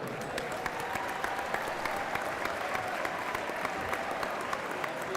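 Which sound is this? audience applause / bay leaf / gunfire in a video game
audience applause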